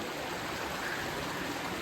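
Clear glacier-fed water rushes steadily through a small channel in Turtuk village, Ladakh, a continuous close-up hiss and gurgle with no pauses or voices.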